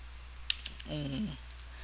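Computer keyboard keys, including the enter key, giving a sharp single click and a couple of lighter taps, followed by a brief humming tone over a low steady background.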